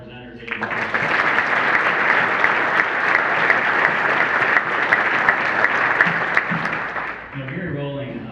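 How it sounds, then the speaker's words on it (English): Luncheon audience applauds the presenters: a full, even round of clapping rises after a brief spoken line, holds loud for about six seconds, then tapers as a voice resumes. "another round of applause for all the presenters"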